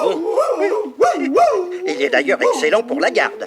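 A man on all fours imitates a dog with his voice, giving yips, barks and whining, howl-like cries in quick uneven bursts, close and loud, mixed with someone speaking French.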